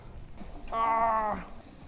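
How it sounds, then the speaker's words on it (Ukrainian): A single cat gives one clear, drawn-out meow of about half a second, fairly close, over quiet outdoor background noise while lamb is being cooked in a park. "У мене коти зараз вкрадуть м'ясо"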